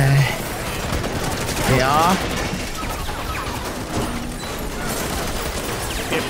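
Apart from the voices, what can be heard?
gunfire in Spider-Man Remastered video game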